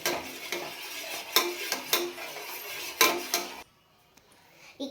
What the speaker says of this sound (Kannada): ಈ ಕಾಫಿ ಪೌಡರನ್ನು ಇದರೊಳಗೆ ಹಾಕಿ ಮಿಕ್ಸ್ ಮಾಡಿ ನೋಡಿ